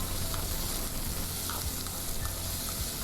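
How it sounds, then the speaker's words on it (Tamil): Shallots, green chillies and curry leaves sautéing over a medium flame in a pan for a Palakkad-style puli curry, a steady close sizzle and crackle of oil with occasional stirring scrapes, no talking. "மீடியம் ஃப்ளேமில் தான் நான் இப்போ வதக்கிட்டு இருக்கு."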